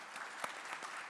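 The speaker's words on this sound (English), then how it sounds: "Please put your hands together for her." A conference audience at a tourism forum panel in Bodrum claps together in a short burst of steady applause, heard from a moderate distance with no voices over it.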